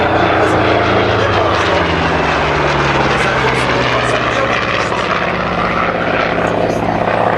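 Aircraft engines roar loudly and continuously overhead at an air show in Avignon, a dense propeller drone that swells and shifts as planes pass close by.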